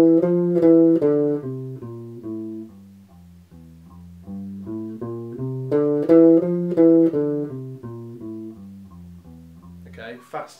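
Slow bass guitar notes walk down and back up, starting soft and swelling louder, then fading and rising again, played alone.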